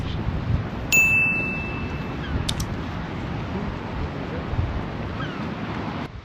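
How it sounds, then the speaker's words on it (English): Steady wind buffeting the microphone on a Scottish long-distance coastal trail, a broad low rumble with gusts throughout, joined briefly by a faint high ringing tone. "A bit windy today, as you probably can't hear me."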